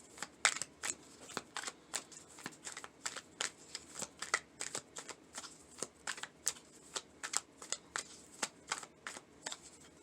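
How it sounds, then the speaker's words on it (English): Tarot cards are shuffled and drawn in quick, crisp riffling flicks, a steady rhythm of sharp papery snaps repeating close by and fairly quiet, with no talk over them. "I'm going to take one more card here, I think."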